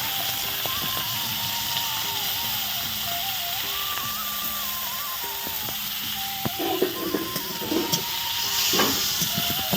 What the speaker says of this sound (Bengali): তেল দিয়ে এটাকে কি ভেজে নিতে হবে